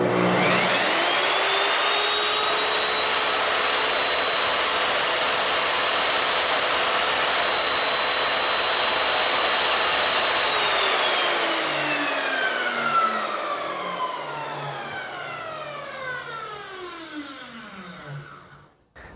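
A Vonder SCV 1810 electric saw spins up to a loud, steady high whine and runs for about ten seconds, then is switched off and winds down gradually to silence.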